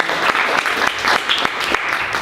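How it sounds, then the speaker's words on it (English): Brief applause from a small audience at a literary magazine launch in a bookstore, the clapping loud and near with audible individual claps in an uneven rhythm. "Applause."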